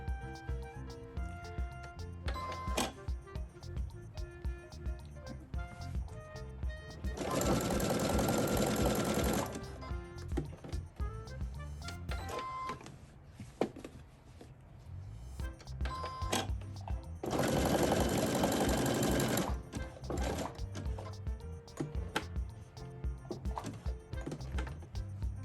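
Sewing machine stitching a crocheted appliqué flower onto fabric, humming through bursts of stitching with two longer loud runs, and light clicks and pauses between them as the fabric is turned.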